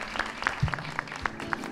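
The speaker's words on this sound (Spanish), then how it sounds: "Escucha el aplauso" A small group claps after a gaita is performed during an online Advent prayer program led by priests, distinct separate claps fairly close and moderately quiet, with a brief low voice in the middle.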